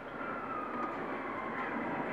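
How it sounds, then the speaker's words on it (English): Steady broadband rumble of a train in GTA 5 gameplay, a continuous rolling rail roar at even loudness throughout, without distinct crash impacts standing out. "We got the train blowing shit up."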